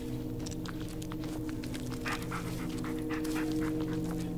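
Bullet the dog pants rapidly and steadily in the video game Blair Witch, close and continuous over a low ambient hum, with faint pattering steps.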